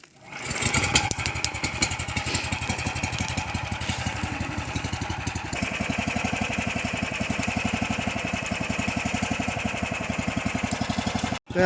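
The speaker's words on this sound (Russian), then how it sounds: "Запустим мотобуксик, чтобы его окончательно не охлаждать." A motorized snow tow's engine starts and settles into a steady, rapid putter, idling loudly and close in the frozen winter taiga at minus 32, its pitch stepping up partway through before cutting off.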